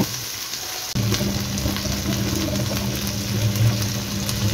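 A tomato and slit green chillies fry in a hot pan, a steady close sizzle that jumps in loudly after a brief quiet start and crackles on without pause.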